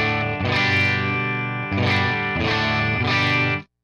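Electric guitar played through a multi-effects pedal board with a cabinet impulse response loaded, giving sustained distorted chords with chorus shimmer, struck in repeated phrases, loud and alone before cutting off.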